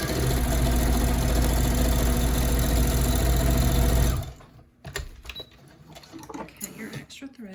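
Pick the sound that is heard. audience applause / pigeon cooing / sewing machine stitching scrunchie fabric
sewing machine stitching scrunchie fabric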